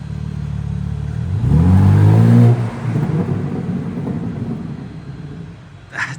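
A 2023 BMW M3 Competition xDrive engine revs up in a loud, rising burst that peaks and drops off, then settles into a lower rumbling idle.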